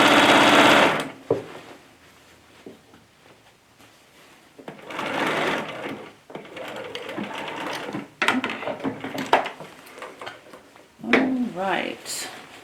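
Sewing machine stitching a seam on a shirt made from a Simplicity 7122 pattern, running in a loud burst at the start and again in several shorter runs with brief pauses between, one of them a short backstitch to lock the seam.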